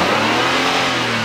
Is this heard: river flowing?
no